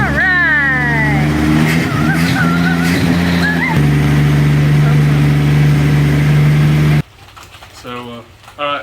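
A 1966 Ford Bronco under restoration cranks and catches, its engine revving unevenly and then settling into a loud, close idle before cutting off, after which brief speech follows.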